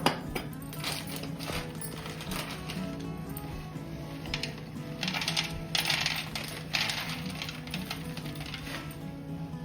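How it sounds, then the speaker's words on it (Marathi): Roasted chickpeas drop and rattle onto a heating griddle where masala is about to be roasted, a string of small hard clicks and scattered patters, some in quick bursts, fairly close and alone. "आपला तवा आता गरम होतोय, आपण मसाला भाजून घेणार आहे। यासाठी मी आता इथं थोडेसे फुटाणे पण वापरणार आहे।"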